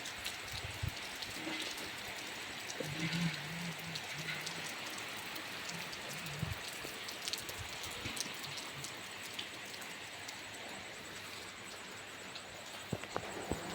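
Steady rain falls outdoors in a continuous close hiss of drops, with occasional sharper drips and taps standing out over the wash; no one speaks.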